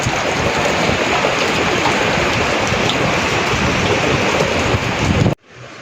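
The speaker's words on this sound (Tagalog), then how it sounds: "Napakabagal ang bagyo nan." Heavy typhoon rain and gusting wind roar as a dense, loud, continuous wash, then cut off abruptly near the end.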